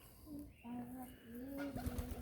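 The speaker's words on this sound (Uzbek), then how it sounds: "mana kaptarlar" Soft, low cooing of pigeons, a few drawn-out calls close by against quiet background noise.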